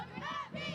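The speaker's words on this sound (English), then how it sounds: "Cheer on with the Friday Night Football Cheerleaders of the Week." High school cheerleaders at a Friday night football game chant and yell together in rhythmic bursts, two short shouted phrases close and lively.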